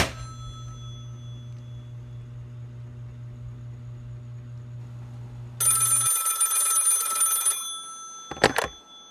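A telephone sound effect in a radio drama starts as a long, steady low hum like an open line, then a shrill burst of electric ringing, then a short sharp final buzz.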